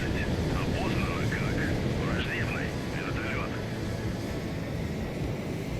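A Yak jet launches from a cargo ship at sea in a naval combat game, a steady broadband roar of jet engine and wind over ocean wash holding near and loud throughout, with a voice speaking over it.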